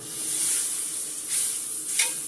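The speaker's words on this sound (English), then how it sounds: "I'm going to go ahead and add 3 tablespoons of butter" Three tablespoons of butter sizzling in a pan before cooking liver, a close, steady bright hiss swelling in a couple of brief louder bursts.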